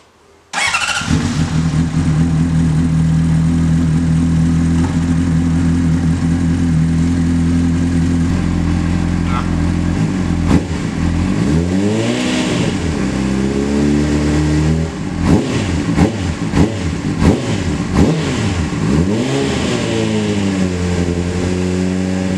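Honda CBR motorcycle engine starting and settling into a loud, steady idle, then revved repeatedly in sharp rising and falling bursts close by.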